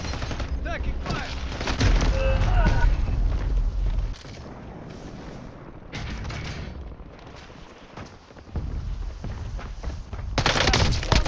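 Gunfire in a shooter video game comes as loud, dense bursts of rapid shots with booming impacts, then drops to a quieter stretch before firing swells again near the end, while a person talks at times.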